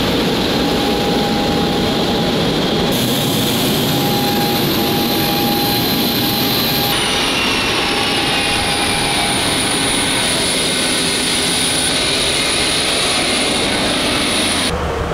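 Boeing 737 airliner jet engines roaring during a night departure, a loud steady broadband rumble with high whine tones, continuous throughout and close by.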